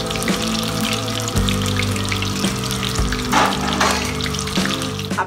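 KFC-style chicken broast deep frying in oil bubbles and crackles steadily up close, with a low hum and occasional clinks of utensils underneath; no voices.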